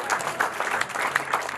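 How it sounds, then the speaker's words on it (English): Audience applause honoring a retired 4-star U.S. Army general at a Hispanic Heritage Month tribute, steady clapping from a moderate crowd with rhythmic peaks throughout. "Applause for a career of hard work and perseverance."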